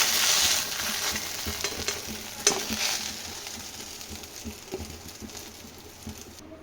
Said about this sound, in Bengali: সাবুদানাটা মোটামুটি ভাজা হয়ে গেছে, আমি 4-5 মিনিটের মতো ভেজে দিলাম